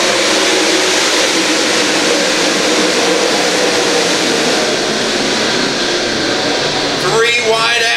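Race cars on a dirt raceway roar together in a loud, continuous wash of engine noise, with a commentator talking over the pack as it runs.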